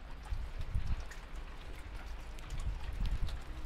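Outdoor rain falling on a rainy day in a garden, a steady soft patter with scattered drops, faint and close, no voices.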